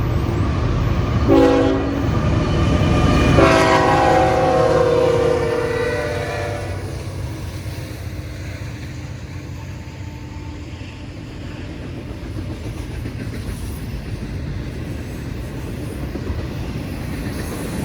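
A train horn sounds in two loud blasts near the start, then a southbound Norfolk Southern freight train led by a Union Pacific locomotive rumbles steadily past in Meridian, Mississippi, with continuous wheel and rail noise.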